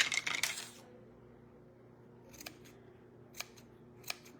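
Scissors snipping yarn for the hair of a highland cow craft at a crafting event: a quick cluster of close, crisp cuts at the start, then a few isolated faint clicks over quiet room tone.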